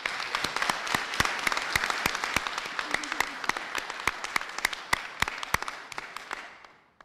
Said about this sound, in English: we would like to give everyone here who's celebrating with us tonight a round of applause